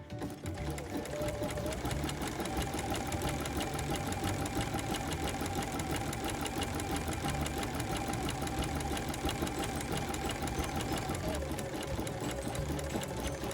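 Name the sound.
sewing machine stitching applique fabric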